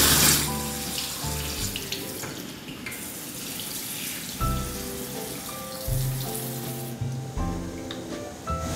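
Tap water runs steadily into a sink while a removable denture is washed, a continuous close splashing stream with small shifts in flow and no talking.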